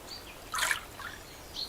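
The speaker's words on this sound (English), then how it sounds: "the birds are waking up" Birds chirp faintly in a garden at dawn alongside a soft water trickle, with a brief brighter burst of calls in the middle and a short chirp near the end, no talking.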